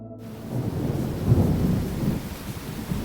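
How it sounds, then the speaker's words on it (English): A fierce thunderstorm rumbles low and steady while heavy rain hammers on a roof, a dense continuous roar with a slight swell in the middle, no voices. "The storm was getting more fierce, branches hitting the windows and the rain hammering on the roof"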